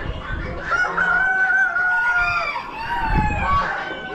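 Several roosters crow at a bird auction, two long overlapping cock-a-doodle-doo calls ringing out loud and close among a pen of cockbirds, with a faint murmur of people in the background.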